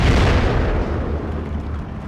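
An anti-tank gun hits a Sherman tank in the wartime strategy game Steel Division 2, producing a loud, deep explosion boom that decays into a long rumbling tail, heard alone.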